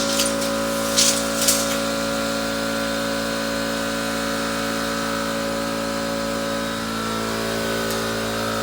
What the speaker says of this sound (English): Air leak, so I keep on getting that compressor going on and off